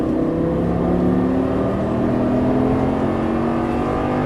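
A Lamborghini Gallardo LP550 on a race track gives a steady, loud engine drone with a sustained tonal hum, held evenly from start to finish without speech.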